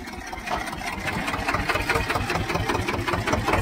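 Swaraj 724 tractor hitched to a 6x6 disc harrow, its diesel engine idling with a steady, rapid chugging beat, fairly close and alone without speech.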